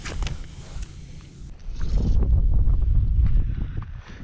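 Gusty wind buffets the microphone with low rumbling while bluegill fishing, growing stronger midway and then easing, with faint rustling underneath.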